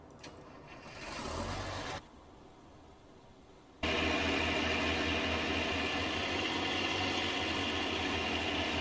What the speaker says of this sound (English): Decided to get two of the noisiest tractors.